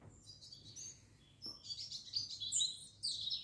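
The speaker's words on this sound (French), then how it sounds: "Vous entendez le chant des oiseaux" Birds chirp and sing in bright, quick phrases, growing busier toward the end, over a quiet rural evening background in the Périgord countryside near Domme, France.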